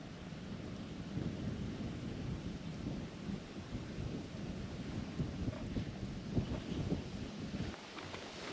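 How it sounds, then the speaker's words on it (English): At an outdoor lookout, rain is arriving: a dense, continuous wash of noise with low rumbling and wind buffeting on the microphone, steady throughout with no voices. "I think the rain's starting to come in"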